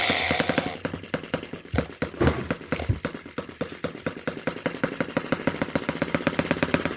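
A small petrol engine on a model micro tractor starts and runs with a rapid, evenly pulsing chatter. It begins with some irregular sputters and then settles into a steady, close idle.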